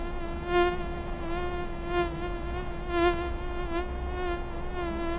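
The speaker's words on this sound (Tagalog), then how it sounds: "Tingnan natin ang lamok na ito lumilipad ng may daladalang tiny camera" A mosquito's thin, high-pitched whine drones steadily close by, swelling slightly louder a few times as it flies.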